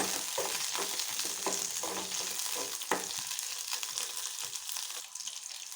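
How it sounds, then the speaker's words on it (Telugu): Green chillies and onions fry in a pan, a steady close sizzle broken by repeated stirring scrapes and clacks of a spoon against the metal, with no voices. "పచ్చిమిర్చి ఆనియన్స్ వేయించుకోవాలి."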